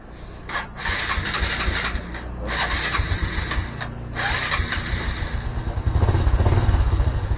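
A Honda Blade 125 Fi motorcycle is cranked repeatedly with a whirring electric starter, several short bursts before the small engine catches and runs louder near the end, close by.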